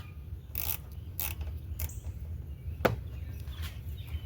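A few close, sharp clicks and ratcheting bursts from a swivel-head 10 mm ratchet wrench loosening a nut on a Troy-Bilt 21-inch self-propelled mower, spaced out against a low engine-like hum, with one brief metallic snap near the end.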